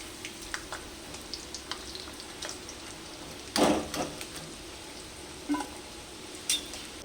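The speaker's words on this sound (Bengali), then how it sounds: "এবার এগুলোকে আমি অন্য পাত্রে উঠিয়ে নেবো" Fried potatoes are scooped from a pan of hot oil into another pot, giving faint sizzling under scattered light clinks and scrapes of a utensil and a louder clatter partway through.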